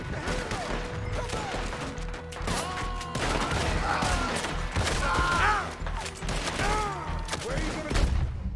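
Heavy gunfire rattles through a chaotic shootout in Red Dead Redemption 2, dense overlapping shots and impacts under shouting voices and game sounds, loud and continuous throughout.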